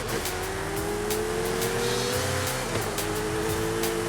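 In the racing game Forza Horizon 5, a car engine drones steadily during a lap, its pitch slowly climbing and dipping as the throttle is eased, loud and continuous with no speech.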